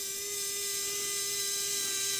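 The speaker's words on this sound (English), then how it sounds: "I've got a 16th inch bit that I'm going to drill those out." A small drill with a 1/16 inch bit whines steadily while enlarging holes during work on an Athearn F7A model locomotive, a close, continuous high-pitched buzz with no pauses.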